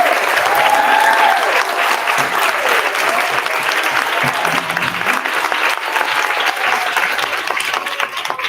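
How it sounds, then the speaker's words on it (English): An audience gives loud, sustained applause for panelists at a panel discussion, a dense continuous roar of clapping from a full room that stays strong throughout. "So if we can give them another round of applause"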